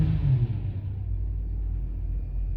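BMW 325xi engine, diagnosed for a misfire, running at idle just after starting: a steady low rumble with a brief rise at the start, then an even drone throughout with no voices.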